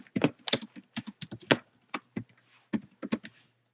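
Keys clatter on a computer keyboard during CSS web coding, a quick close run of crisp taps in short bursts with brief pauses, no talking.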